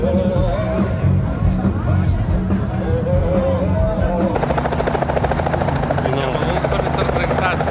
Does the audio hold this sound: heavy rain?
no